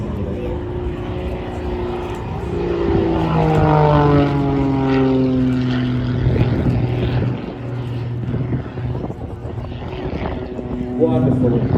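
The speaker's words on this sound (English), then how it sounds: "Control just on the Lycoming engine there." An aerobatic aircraft with a Lycoming engine flies overhead at the International Ayr Show, a loud propeller drone whose pitch slides steadily downward as it passes and recedes.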